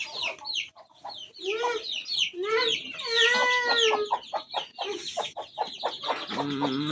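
Chickens and chicks cluck and chatter steadily at close range on a farm, a busy mix of short clucks and higher calls with a voice briefly speaking among them.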